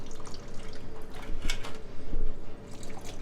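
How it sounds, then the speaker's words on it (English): Water trickles and drips out of a sprint car, a thin, uneven splashing stream heard close by without any speech. "not a lot of water coming out of there"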